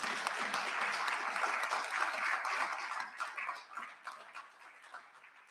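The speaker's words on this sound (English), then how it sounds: "a round of applause to all of our speakers" Audience applause for the speakers at the close of a day of talks at a healthcare technology conference: sustained dense clapping from a room of people that holds steady, then thins and fades toward the end.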